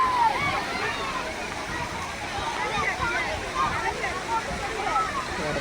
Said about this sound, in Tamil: தண்ணி ஊற்ற போகுதுன்னு நினைக்கிறேன்